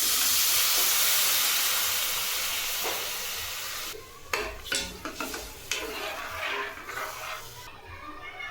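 Milk poured into a pan of roasted vermicelli hisses loudly and steadily for a few seconds, then gives way to close clinks and scrapes of a utensil stirring against the pan.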